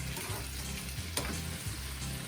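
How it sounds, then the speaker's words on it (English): Steady sizzling of tofu and tomatoes sautéing in a pan, with occasional stirring scrapes, continuous and fairly close, no talking. "we're gonna saute this nicely"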